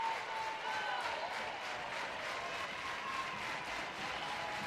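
A crowd at a college softball game between Virginia Tech and Georgia applauds and cheers steadily from a distance, a continuous wash of clapping and voices with no single standout shout.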